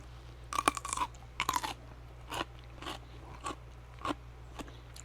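Close, crisp crunches of biting into a homemade garden pickle, followed by several wet chewing crunches that grow softer and more spaced out.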